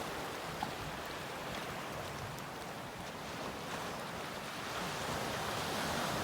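Powerful ocean waves at Stone Beach, a dense continuous roar of surf with wind mixed in, steady and fairly loud, slowly swelling toward the end, with no voices.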